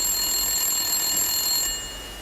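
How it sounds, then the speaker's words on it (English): A telephone rings in a homemade movie, a steady bright electronic ring heard alone for about two seconds, fading slightly at the end. "Phone call! Entschuldigung!"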